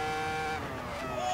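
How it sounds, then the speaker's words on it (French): A Ferrari F2004 Formula 1 car runs in Assetto Corsa, its high-pitched engine whine faint and steady with a tone that rises near the end, heard alone without talk. "la Ferrari F2004, 7e et dernière voiture de ce pack anniversaire"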